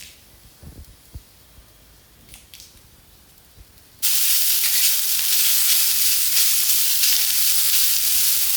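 Grated coconut, shallots and curry leaves go into a hot pan for an egg curry. After a few seconds of quiet kitchen clatter, a loud, sudden sizzling hiss bursts up and holds steady to the end.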